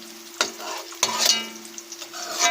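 Onions hiss in a hot pan during a seafood cook, with a short sizzle broken by a couple of sharp stirring scrapes over about two seconds.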